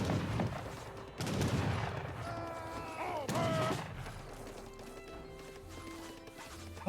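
Siege artillery firing in Age of Empires 3 battle: a couple of heavy booming shots over a busy mix of clattering combat, distant gunfire and hooves, with some tonal game effects and no talk.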